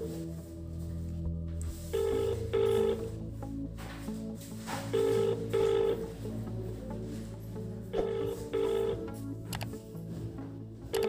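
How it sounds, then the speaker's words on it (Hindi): A mobile phone call rings while it connects: paired ringback tones repeat about every three seconds, clear and steady over a low background hum, with no one speaking. "अब हमारी कॉल लग गई, देख सकते हैं आप"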